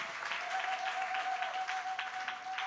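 Church congregation applauding in the name of Jesus, a brief steady patter of many hands clapping with a faint sustained tone underneath.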